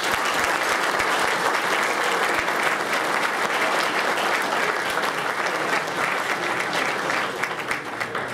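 A hall of fame induction audience claps for the inductees in sustained, dense, loud applause that fills the room from start to finish, tapering slightly at the very end.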